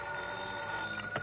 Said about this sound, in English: the phone beside my bed started jangling again